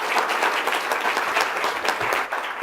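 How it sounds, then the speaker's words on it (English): An audience breaks into sustained applause after a presentation on a tax office update, dense clapping from many hands at moderate distance, steady throughout with no voices over it. "could we have a round of applause?"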